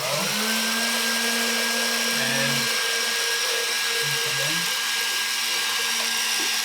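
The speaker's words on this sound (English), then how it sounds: "I'm going to put my immersion blender there and make sure it's on low." An immersion blender set on low whirs steadily in a vinegar mixture for a vinaigrette, a continuous close motor hum, with a single brief spoken word at the start.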